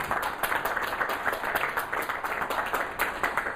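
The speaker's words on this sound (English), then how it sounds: "So a warm round of applause for Andy." A small audience claps warmly for speaker Andy Cheadle, with dense, rapid hand claps that hold steady throughout at close range.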